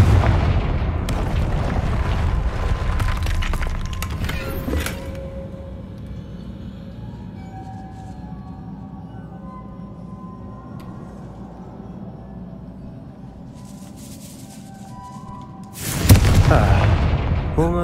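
A Confringo fire spell blasts in Hogwarts Legacy, a loud booming burst near the end that follows a stretch of low rumbling ambience, with a few earlier crackling impacts.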